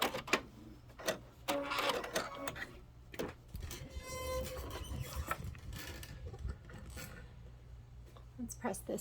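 A home sewing machine back stitches while assembling a Kimberbell Cup of Cheer quilted project, giving quiet rapid whirring runs and mechanical clicks with a few sharp taps, faint and close.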